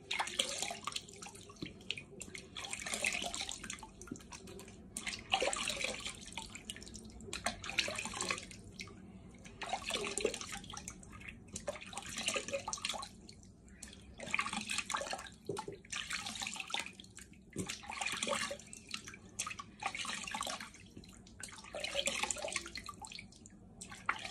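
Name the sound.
rinsing face with tepid water at a sink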